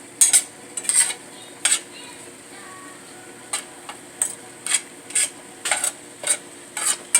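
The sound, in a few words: turkey bacon, bell peppers and onions sauteing in pan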